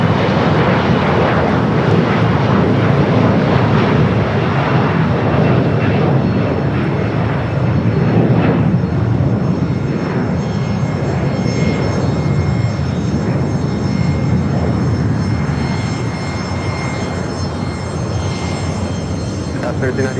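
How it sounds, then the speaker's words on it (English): A JSX jet airplane taxiing along a taxiway at LAX, a loud steady engine roar and whine filling the whole stretch, close and continuous, easing slightly toward the end. "JSX heading down taxiway Alpha"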